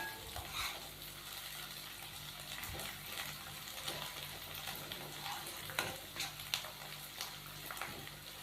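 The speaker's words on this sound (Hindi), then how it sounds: "अदरक और लहसुन के पेस्ट को हम 1 मिनट के लिए फ्राई कर लेंगे।" Ginger garlic paste frying in oil for a chicken tikka masala, with a quiet steady sizzle broken by repeated scraping stirs and light clinks of a spoon against the pan, close and without voices.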